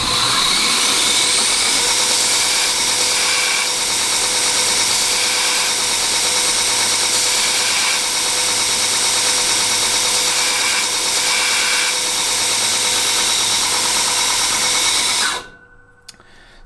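A drill bit being sharpened on a grinder makes a continuous high-pitched grinding whine, steady and loud for a long stretch, then abruptly cutting off near the end.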